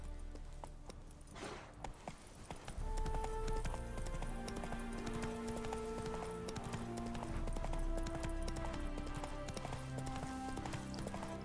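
Hoofbeats of Roach, Geralt's horse in The Witcher 3, clip-clop steadily at a gallop beneath game music, running continuously and fairly loud after a brief quieter start.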